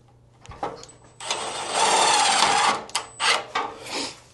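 Self-tapping screws being driven in while a front Safari window is mounted on a VW bus, tight against its seal. A burst of whirring power-driver noise lasts about two seconds, followed by several shorter spurts, close and fairly loud.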